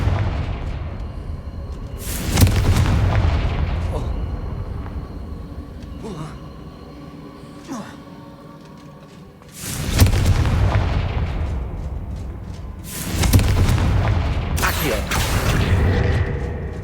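Fire spell explosions boom in the Hogwarts Legacy video game, three heavy, loud blasts with long rumbling tails spaced several seconds apart, quieter game sounds and a voice between them.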